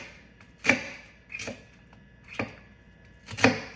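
A kitchen knife makes four separate crisp cuts into an onion on a board, each a sharp brief chop spaced about a second apart, close and fairly quiet with no talking.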